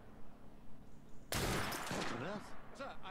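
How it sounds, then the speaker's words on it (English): A sudden loud gunshot blast in the video game Assassin's Creed: Syndicate cuts through quiet ambience, followed by a ringing, echoing tail and voices speaking afterward. "It sounded like a second gunshot."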